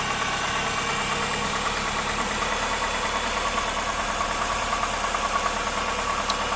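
Subaru Forester engine idling roughly with the brake booster left disconnected, a steady, close mechanical drone with a faint uneven knock running through it and no voices.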